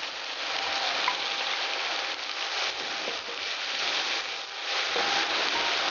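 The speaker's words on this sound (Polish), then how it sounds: "Na pozostałe po smażeniu kiełbasy tłuszcz wrzucamy pokrojoną w kostkę" Diced onion sizzles steadily in the fat left over from frying sausage, a dense, close crackling hiss that holds even throughout with no voices.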